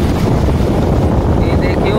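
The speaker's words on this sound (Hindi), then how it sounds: "देखो कितनी तेज पानी का बहाव चल रहा" Floodwater rushes fast over a cut village road beside sandbags, a loud continuous roar and churn close to the microphone, with wind buffeting throughout.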